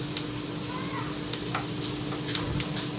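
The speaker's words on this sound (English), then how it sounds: "we got sizzling going from the sausage" Sausage sizzles in a pan with a steady crackling hiss, joined by a low hum and a few sharp clicks and taps of utensils near the cooktop.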